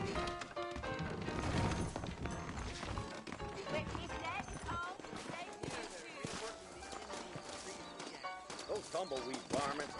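Horses clip-clop in the western video game Red Dead Redemption. The rhythmic hoof beats sit under a busy mix of music and voices talking.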